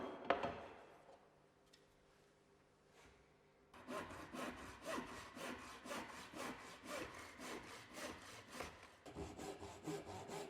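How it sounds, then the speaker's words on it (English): A hand saw cuts a scribe joint in wooden skirting board, with light scraping at first, then steady rhythmic back-and-forth strokes, close and clear. "Repeat the method demonstrated to cut the other scribe, only this time the angle of the saw cuts will be slightly increased."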